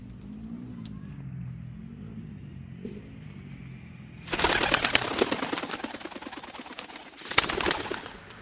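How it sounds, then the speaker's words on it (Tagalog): Tippler pigeons, kept as high-flying birds, burst into flight with a loud flurry of flapping wings over a low background rumble of distant traffic, then a second short burst of wingbeats follows. "papakita ko sa inyo yung compilation ng pagpapalipad ko ng kalapate, especially ng mga tippler or ng mga high flyer pigeons"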